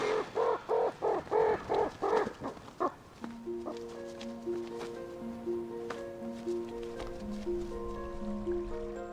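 Magpies in snowy winter countryside in Poland give a rapid run of harsh, chattering calls for about three seconds before falling quiet. Sustained musical tones follow.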